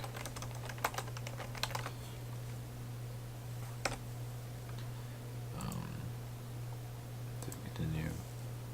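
Bursts of computer keyboard typing as a card name is entered in a deckbuilding app, soft close key clicks in short runs over a steady low electrical hum, with faint murmured speech.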